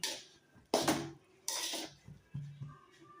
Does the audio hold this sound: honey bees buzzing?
no